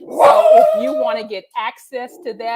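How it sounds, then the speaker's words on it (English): A puppy barks in the background, two or three sharp, fairly loud barks right at the start, followed by a person speaking with no further barking. "the dog barked at the perfect time"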